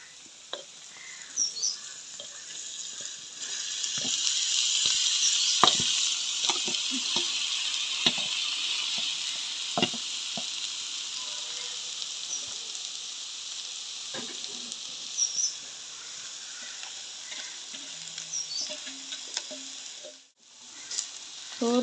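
Turmeric-cooked rice frying in a pan with tomato and egg, giving a steady close sizzle broken by the scrapes and knocks of repeated stirring, with no speech.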